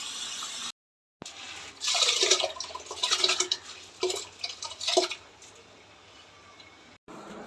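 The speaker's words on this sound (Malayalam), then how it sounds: "ഞാൻ പയർ കഴുകി എടുത്തൊരു വെള്ളം വാലാൻ വെച്ചിട്ട്" Water splashing and trickling while lentils are washed in a kitchen, arriving in several short, uneven bursts with quiet gaps between them.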